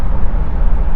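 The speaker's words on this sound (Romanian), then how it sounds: "uitați și mașina care tocmai m-a depășit" A car passing on a Romanian national road with one and a half lanes per direction, heard as a steady, close low rumble of engine and tyre noise with wind, no voices.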